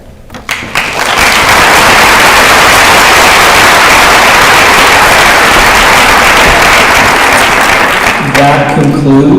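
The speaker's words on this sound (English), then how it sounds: "One more round of applause for all our recipients" Loud, sustained applause fills an award ceremony hall for several seconds. It swells quickly, then fades as a voice begins speaking at the end.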